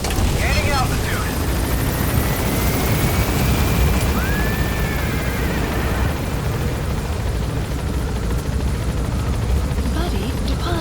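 A helicopter in the game Metal Gear Solid V departs a landing zone and gains altitude, its steady heavy rotor wash droning loudly and continuously while a radio voice speaks over it.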